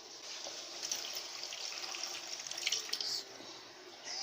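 Water pours steadily into a blender for making coconut milk, a continuous splashing hiss with small gurgles, close and moderately loud, no voices.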